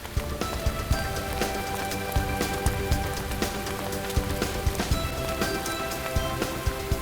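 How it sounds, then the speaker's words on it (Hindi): Rain pouring steadily outdoors, a dense, continuous patter of drops striking surfaces with sharper splashes scattered throughout, fairly loud and close. "बारिश कहाँ से आ गई यार?"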